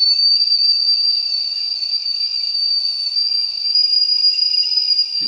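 A whistling kettle inside a motorhome sounds a shrill, steady whistle continuously at high pitch, loud and unwavering for the whole stretch.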